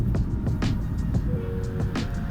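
Car passing a cyclist riding at about 14 mph on the road, a low rumbling engine and tire roar swelling and fading beneath steady wind noise, with a faint tonal whine partway through.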